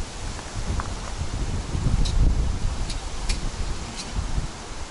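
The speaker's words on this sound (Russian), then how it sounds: "Ох, ветер какой." Wind blows outdoors as a steady, moderate rushing noise with soft rustling swells, and a few faint ticks and clicks sound nearby.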